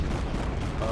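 A Cleveland-class light cruiser fires a shell volley in the naval battle game World of Warships, heard as a dense, continuous rumble of booming gunfire that stays loud throughout the brief burst.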